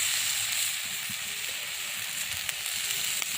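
Pumpkin pieces dropped into hot oil in a pan for a village-style fish head curry, sizzling steadily and close up with a bright, continuous frying hiss and a few small pops.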